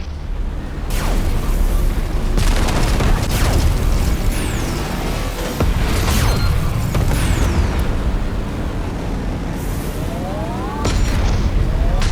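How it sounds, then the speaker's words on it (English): Weapon fire echoes through a video game battle as a railgun shoots at distant targets, producing repeated heavy booms and rising whooshing streaks over a constant loud rumble. "having the railgun is so nice for taking out targets from really far away"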